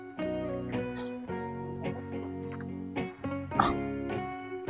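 Dogs bark and yip repeatedly at close range, with a steady pitched hum running underneath and some brief clattering.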